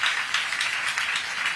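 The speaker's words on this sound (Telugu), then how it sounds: "గట్టిగా అందరూ కూడా చప్పట్లు కొట్టి అభినందించండి." An audience applauds at a public event attended by state officials, with a brief, dense patter of many hands clapping at moderate distance and no speech.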